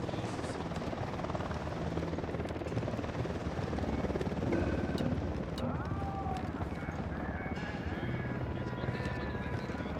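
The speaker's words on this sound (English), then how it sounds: "Unidad chopper, stay low." A helicopter in the video game Ghost Recon Wildlands drones with a steady rotor chop throughout, mixed with dense game ambience and scattered effects, fairly constant in loudness.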